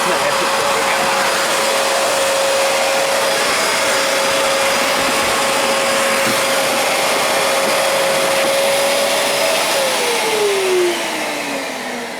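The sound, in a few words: Fantom Cyclone XT vacuum cleaner running, picking up popcorn with hose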